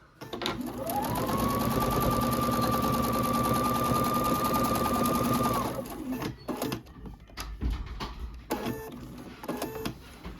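Sewing machine stitching a flannel rag quilt, a loud continuous mechanical whir with a rising motor pitch that holds steady for about five seconds, then stops, followed by quieter handling clatter.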